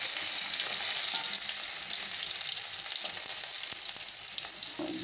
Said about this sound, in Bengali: এই আলুগুলো ভেজে নেব